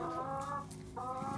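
Laying hens clucking and murmuring in a backyard flock, two drawn-out, nasal clucking calls close by, separated by a brief pause.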